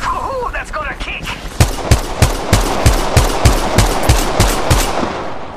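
Rapid automatic gunfire in Apex Legends Mobile, a battle royale shooter: a regular burst of about a dozen sharp, loud shots at an even rhythm, preceded by brief in-game voice chatter.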